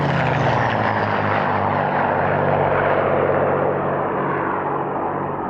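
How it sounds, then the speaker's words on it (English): Two North American P-51D Mustang fighters flying at the 1996 Duxford airshow, a loud, sustained piston-engine roar with a steady propeller drone that stays close and fairly level throughout. "Now two North American P-51D Mustangs fly in for their display."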